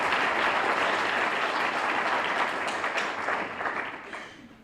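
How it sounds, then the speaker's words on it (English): An audience claps in dense, steady applause at a welcome and mentorship day speech, holding strong for about three seconds before tapering off toward the end. "Can you give yourselves a round of applause?"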